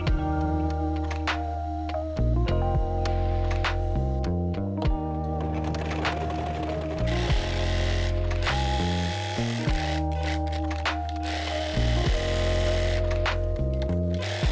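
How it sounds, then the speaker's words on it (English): A sewing machine stitches fabric in several runs, a loud close mechanical whir with a rhythmic tapping pulse, stopping in short pauses between bursts, with no talk. "you rotate 90 degrees to put the presser foot down again and keep on sewing"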